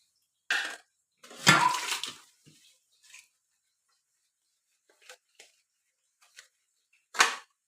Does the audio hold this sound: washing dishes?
yes